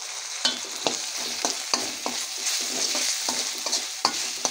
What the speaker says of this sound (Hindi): अब इसे भी अच्छे से भून लेना है हमको